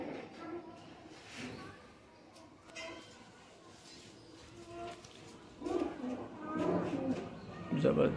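Low, throaty pigeon coos repeat through the clip, growing louder toward the end, with people talking nearby.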